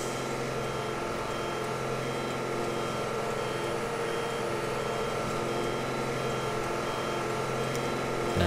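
A Thomas 3800 school bus reversing in the Rigs of Rods driving game, with a steady engine drone and a continuous beeping tone running evenly and without a break.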